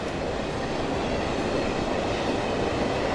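A steady, continuous rumble of an Amtrak Metroliner electric train running in the Transport Fever video game, a dense unbroken rolling wash with faint rail clatter and no talking.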